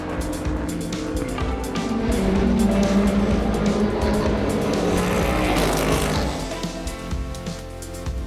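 WEC race cars speeding past on the Bahrain circuit, a loud roaring engine pass that swells to a peak midway and fades, heard over track ambience.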